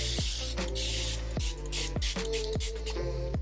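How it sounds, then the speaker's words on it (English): A handheld spray bottle mists water onto natural hair during a wet-look styling session: five or six sharp, hissing spritzes come in a steady rhythm, close and fairly loud, with no talking. "I'm gonna spray a little bit more water."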